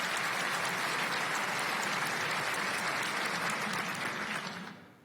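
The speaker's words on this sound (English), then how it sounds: "then real applause from the audience" An audience at the ISMIR 2018 music information retrieval conference applauds in a dense, even burst of clapping that stays loud and steady, then tapers off in the final second.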